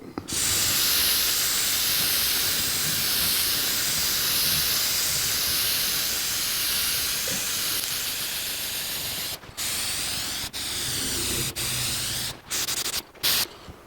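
Clear coat sprayed onto a 1984 Jeep CJ7 engine, a loud continuous aerosol hiss that runs steadily, then breaks into short bursts with brief gaps near the end, close to the microphone.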